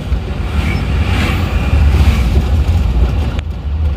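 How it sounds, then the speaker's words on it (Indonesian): An Isuzu Panther diesel engine with its thermostat removed idles nearby with a loud, steady low rumble that stays even throughout, with no talking. "mendengar suara mesinnya yang halus dan stasioner yang rata"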